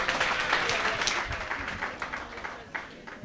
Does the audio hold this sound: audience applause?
yes